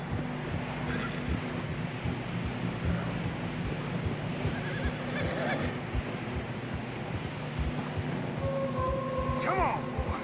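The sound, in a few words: horses neighing and hooves in Red Dead Redemption 2 video game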